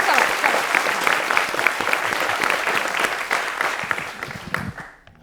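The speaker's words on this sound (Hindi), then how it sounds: "एक बार इंडिया टीवी के लिए तालियां।" Audience applause for India TV, a dense, steady burst of clapping from a studio crowd that holds strong for several seconds, then thins out and fades at the end.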